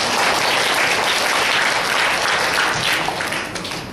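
A congregation in church claps loudly for God, a thick continuous roar of many hands that holds steady and then fades slightly at the close.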